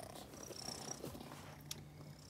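A house cat purrs close by at the door, a soft steady rumble running through the short stretch alongside a faint high whine, with no one speaking.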